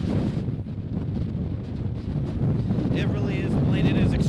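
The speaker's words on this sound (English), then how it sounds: "It is extremely windy right now" Strong storm wind roars in a steady, unbroken rush across the microphone at Hatteras Village, loud and close throughout.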